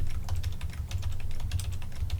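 Computer keyboard keys tapped in quick irregular bursts, close and fairly soft, over a low steady hum.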